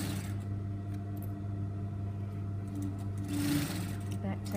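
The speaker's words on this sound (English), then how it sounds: "then we can stop and continue sewing" A sewing machine stitching fabric with a steady, low mechanical hum and a faint rhythmic needle clatter, close up, while a person talks over it.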